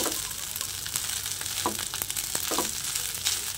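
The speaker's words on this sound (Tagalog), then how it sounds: "Kaya naisip ko igisa na lang ito." Leftover hotdog sizzles steadily as it is sautéed in a pan. A constant fry noise carries a few light scrapes and stirring clicks throughout, with no voices.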